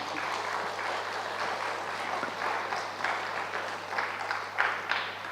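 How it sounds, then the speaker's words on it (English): Steady applause from an audience honoring panelists at a panel discussion, even and continuous clapping with a low hum beneath it. "Round of applause for our panelists,"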